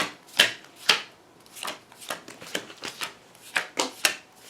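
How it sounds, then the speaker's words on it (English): A deck of boss cards from a card game being shuffled by hand, with about ten quick riffling bursts at irregular intervals, close and moderately loud, with no voices. "Let's shuffle the boss cards up."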